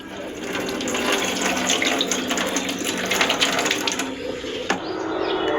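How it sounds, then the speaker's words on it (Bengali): Rice and lentils for khichuri are washed in water, with a steady rush of running water and splashing close by. The flow breaks off briefly near the end, and no one talks. "এবার পানিতে খুব ভালোভাবে ওয়াশ করে একটা স্ট্রেনারে পানি ঝরিয়ে নেব"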